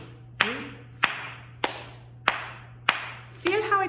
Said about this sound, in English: Now the one, tap it on your knees and then clap the other ones.